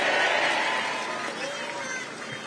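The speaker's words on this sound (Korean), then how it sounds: "여러분의 청직한 일꾼 박수 한번 보내주십시오" Audience at a political rally clapping and cheering, a dense wash of applause from a large crowd that holds steady and slowly fades over a couple of seconds.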